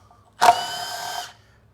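A power tool whirs for about a second while removing valve body bolts from a 6L90E transmission during a rebuild, a single steady burst that starts sharply and then cuts off, close and clear with no talk.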